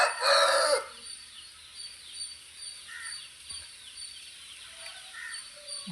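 A rooster on a farm, one of several tied up outdoors, lets out a loud, close crow at the very start; fainter, more distant calls follow over quiet farmyard ambience.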